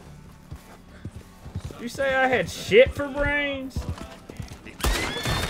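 A horse in a cowboy video game whinnies loudly in a rising and falling neigh, with hoof clops nearby and someone talking over it.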